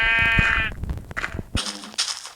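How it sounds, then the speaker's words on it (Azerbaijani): Sheep in the Minecraft video game bleat in a short, clear call, followed by scattered game sounds and a brief second burst of noise. "Qoyun."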